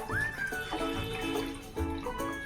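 Dishes washed by hand in a home kitchen sink under a running tap, water streaming steadily with clinks and knocks of utensils scattered through.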